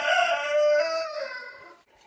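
A chicken in a hot-weather backyard flock gives one loud, close, drawn-out harmonic call that rises and then fades in about two seconds.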